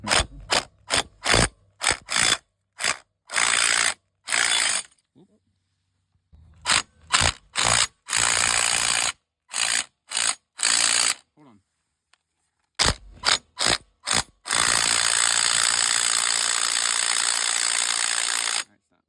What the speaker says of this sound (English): our impact wrench was not working